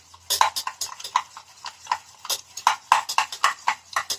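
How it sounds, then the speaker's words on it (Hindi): Milk and cream being whisked by hand in a bowl make quick, rhythmic clinking beats of a utensil against the bowl, close and distinct. "अब इसको अच्छे से इस तरह से आप फेंट लीजिए"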